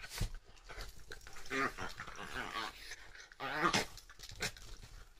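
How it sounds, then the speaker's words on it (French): Dogs scuffle indoors at home, giving short whimpers, yelps and growly vocal bursts in uneven clusters at moderate volume, with a brief gap of quieter rustling between the louder flurries. "Il y a Muffin et Melba qui se tapent dessus."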